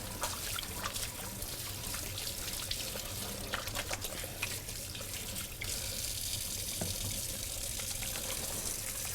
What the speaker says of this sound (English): And now I'm going to go ahead and wash my hands.